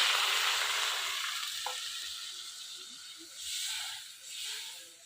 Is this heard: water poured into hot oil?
yes